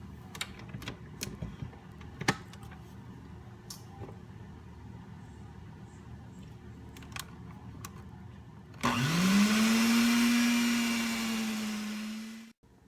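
An electric hand mixer starts up partway through and beats chocolate pumpkin cake batter, giving a loud, steady whir with a high hum that eases off gradually. Before it, quieter kitchen clatter and small knocks are heard.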